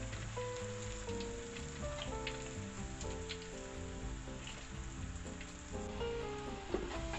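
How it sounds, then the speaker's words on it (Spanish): Plantains sizzle in hot oil for tostones, a faint steady crackle heard under background music. "Aquí estoy friendo los plátanos para hacer los totones."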